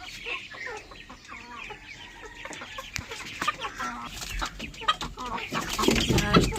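Several chickens cluck and chatter inside a household poultry coop where ducks and ducklings are also kept, a busy close chorus of overlapping calls that grows louder toward the end.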